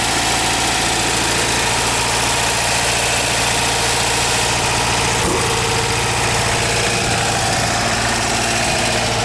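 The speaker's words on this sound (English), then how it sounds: "Idle is set perhaps just a little high." A 1974 Volkswagen Westfalia van engine with automatic transmission idles steadily and slightly high up close, a continuous rumbling drone with a faint rhythmic knock.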